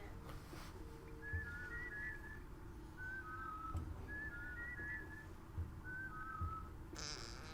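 Whistled melodic phrases from characters in the video game Oddworld New 'N Tasty, four short two-note motifs repeating at a steady pace over a constant low hum, with faint thuds in between.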